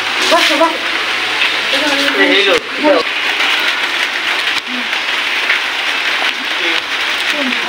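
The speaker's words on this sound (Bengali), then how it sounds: "টিপ টিপ করে বৃষ্টি নামতেছে।" Steady, soft patter of light rain forming a continuous hiss, with a voice talking briefly near the start.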